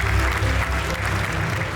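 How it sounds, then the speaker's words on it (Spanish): Warm applause from the audience at a private-sector compliance panel, a brief, loud and continuous burst of many hands clapping with a murmur of crowd underneath. "Démosles un caluroso aplauso"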